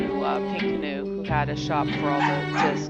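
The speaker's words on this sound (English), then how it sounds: "I apologize for my dog barking in the background." A pet dog barks and yips repeatedly in the background of a room while a person keeps talking over it at close range.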